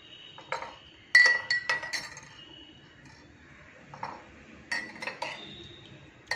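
A spoon clinks against a glass while stirring a hibiscus drink, giving a few bright, scattered taps close by with quiet gaps between them.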